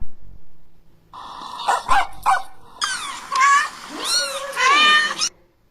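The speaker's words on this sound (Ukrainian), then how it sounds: "Так, вірно, це котик і песик." A cat meows and a dog barks in turn, close and clear, with sliding meows and sharp yelps following one another over several seconds.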